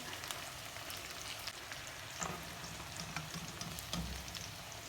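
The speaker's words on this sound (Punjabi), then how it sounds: "ਤੇ ਪਿਆਜ਼ ਜਿਹੜੇ ਹਨ ਵੀ ਅਸੀਂ ਉਸੇ ਤਰ੍ਹਾਂ ਫਰਾਈ ਕਰ ਲਏ ਜਿਵੇਂ ਅਸੀਂ ਆਲੂ ਫਰਾਈ ਕੀਤੇ ਸੀ" Onions frying in oil in a pan for a stuffed bitter gourd dish, giving a steady, dense sizzle and crackle that runs throughout, close and even, with a few louder pops and no voices.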